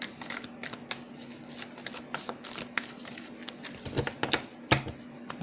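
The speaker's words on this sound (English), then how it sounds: "I'm actually shuffling the fairy deck." A fairy oracle card deck being shuffled by hand, with quick papery riffles and soft flicks in irregular bursts, close and quiet, with a faint steady hum underneath.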